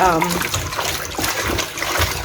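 Water splashes and trickles continuously, like a faucet running over raw chicken being washed with vinegar in a sink, with some clatter and a voice in the mix.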